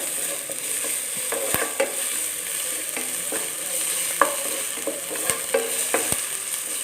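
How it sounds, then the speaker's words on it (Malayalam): Ginger garlic paste fries in a pan for a chicken ularthiyathu, a steady crackling sizzle up close, with light occasional taps and scrapes of a spoon. "നമ്മുടെ ഇഞ്ചി വെളുത്തുള്ളി പേസ്റ്റൊക്കെ നല്ലപോലെ ഒന്ന് മൂത്ത് വന്നിട്ടുണ്ട്"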